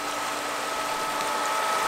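An above-ground pool's filter pump runs in a steady, loud, unbroken hum with a faint whirring whine and a watery hiss. Nothing else is heard over it.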